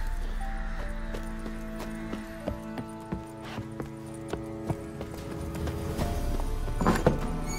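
Geralt's horse Roach in The Witcher 3 clops along in a steady series of hoof thuds over a droning game soundscape, with a brief louder clatter near the end.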